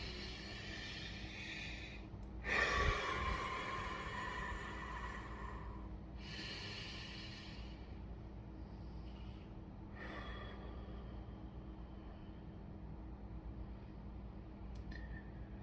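A couple of deep breaths taken slowly and close by, soft rushes of air over a steady low background hum, with no talking.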